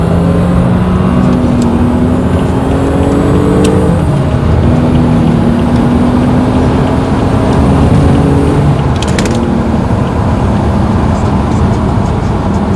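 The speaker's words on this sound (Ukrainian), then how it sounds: "то відчувається звук мотора." A BMW F30 328 or 320 car engine hums and climbs in pitch as it accelerates, shifting gears midway, heard from inside the cabin with steady road noise.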